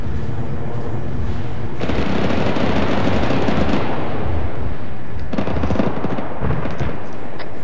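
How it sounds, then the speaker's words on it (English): Sustained heavy gunfire in a military video game as a player shoots down an enemy jet aircraft, with dense rattling bursts filling most of the passage, loud and close, easing briefly before picking up again. "Clearly I'm shooting down an aircraft."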